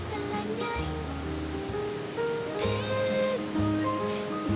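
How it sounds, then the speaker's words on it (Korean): Flowing water at Ba Ho (Yang Bay) waterfall, a valley falls about 45 km from Nha Trang in Vietnam, makes a steady broadband rush that fills the clip, with tonal background sounds layered over the continuous water noise. "하늘 폭포라는 의미를 가진 양베이 폭포."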